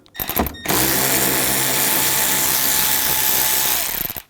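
A power drill removes screws from the inner fender well of a 2011-2018 Volkswagen Jetta, running as one loud, steady whir for several seconds after a few short bursts, then winding down.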